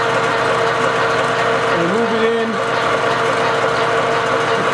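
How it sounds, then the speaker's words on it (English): A metal lathe runs while machining a banjo bolt, giving a steady, moderate mechanical hum with a faint tonal warble rising and falling briefly near the middle. "Turn on the lathe."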